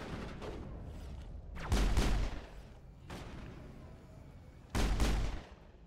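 Gunfire in the sci-fi shooter Mass Effect comes as several separate loud bursts with booming low ends and short decays, spaced irregularly over a quieter background rumble.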